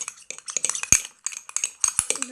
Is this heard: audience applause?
no